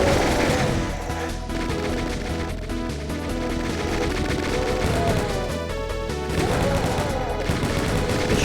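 Rapid gunfire from chaingunner enemies in Doom 2, Alien Vendetta level Seclusion, crackles as they shoot each other, dense overlapping bursts with game music running loudly throughout, steady and close.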